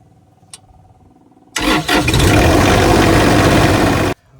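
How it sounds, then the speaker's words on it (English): A large RV engine cranks and catches, then runs at a loud, rough idle for a few seconds before cutting off abruptly; a faint click comes first. "So I'm going to go ahead and fire the engine up."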